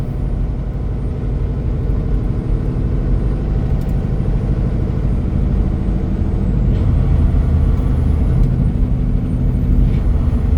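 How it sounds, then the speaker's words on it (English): A truck's Jake brake engine braking on the icy Dalton Highway, a loud steady low rumbling drone from inside the cab, continuous for the whole stretch with no talk. "Jake brake on second stage."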